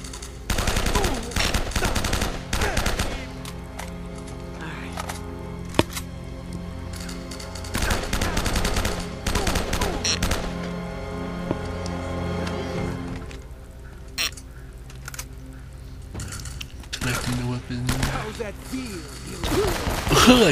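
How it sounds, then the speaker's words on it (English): Blind-fire gunshots from Uncharted: Drake's Fortune sound as loud, rapid bursts of automatic fire with scattered single cracks and impacts, continuing through most of the moment with a voice talking over parts of it. "I killed him with blind fire, that's nice."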